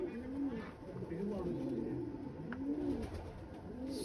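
Low, repeated pigeon coos roll through the clip in soft rising-and-falling phrases, with a busy background murmur underneath.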